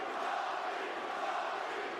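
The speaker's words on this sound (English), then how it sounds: "Crowd trying to give a little juice to Robbie Lawler" An arena crowd at a UFC fight between Robbie Lawler and Colby Covington roars in a sustained, dense wash of cheering for Lawler, steady and fairly loud with no distinct individual voices.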